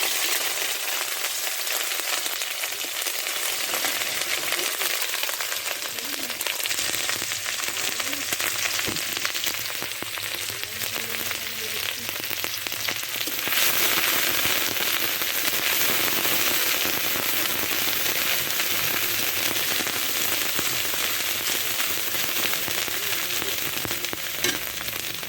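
Onion paste fries in hot oil in a pan for a fish curry, giving a loud, steady sizzle dense with crackling pops that swells halfway through and carries on without talk.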